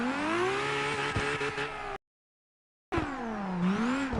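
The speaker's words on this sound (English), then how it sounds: "This is my car." A Honda car engine revving, rising and falling in pitch with a clear harmonic whine, loud and close, cut by a short silent gap before another rev swells up and dips again.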